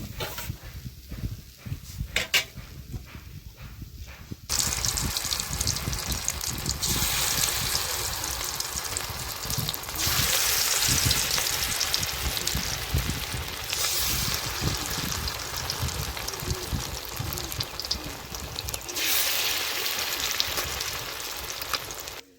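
Fish pakoras, kajli fish fritters, frying in hot oil in a home kitchen, with loud continuous bubbling sizzle that surges as new batches go in, after a quieter opening with some clatter.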